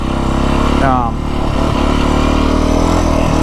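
A 2025 Beta 350 RR X-Pro dirt bike ridden slowly in first gear, its engine droning steadily and loud close up with a brief rise in revs near the start, while a rider talks over it.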